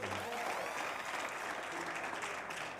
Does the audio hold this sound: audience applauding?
yes